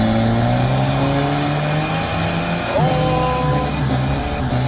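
A car revs hard during a burnout at a car meet, its engine roaring loud and sustained throughout with rising and falling pitch, with no talking.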